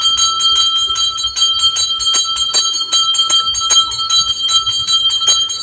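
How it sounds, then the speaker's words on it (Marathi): A small metal prayer bell rings rapidly and continuously during an aarti, bright repeated strikes in quick rhythm, loud and close, with faint background murmur beneath. "ताई आरती करायला लागल्यात घंटी बघा किती मोठा आहे"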